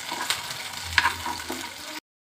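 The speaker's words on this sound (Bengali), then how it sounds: "তারপরে ফ্রাইং প্যানের মধ্যে এইভাবে তেল দিয়া তারপরে এর মধ্যে কাঁচামরিচগুলো ভাজা ভাজা করবেন। আর হচ্ছে রসুন এভাবে ভাজতে হবে কিছুক্ষণ।" Green chilies and garlic frying in oil in a frying pan, a close, steady sizzle with a few sharp crackles and a stirring scrape, cutting off abruptly after two seconds.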